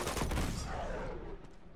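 Enemy gunfire in Uncharted 2 at the monastery, a fairly faint burst of rapid shots at the start that fades into a trailing, distant rumble.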